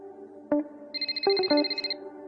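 A mobile phone left lying around at home plays a bright melodic electronic ringtone, close and moderately loud, a run of quick repeated tones with no talking.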